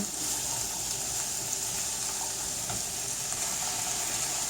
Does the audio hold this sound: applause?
no